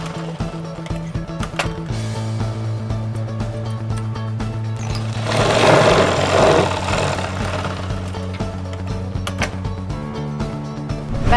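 A sewing machine stitches a dart on a blouse. It gives a continuous mechanical whir and hum, close and steady, that shifts pitch and rises slightly midway before running on.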